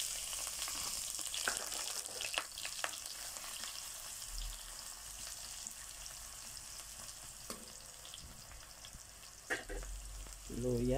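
Garlic and ginger sauté in a hot pan for a chicken liver and gizzard adobo, producing a continuous moderate sizzle broken by a few sharp clicks and clatters of stirring.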